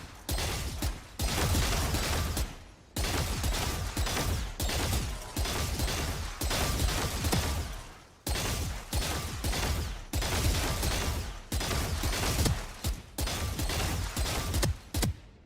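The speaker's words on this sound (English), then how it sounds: "And then of course I do the typical like bot shooting." Rapid automatic gunfire from bot shooting practice in Valorant, long loud sustained bursts separated by brief pauses, repeating steadily throughout with no talking.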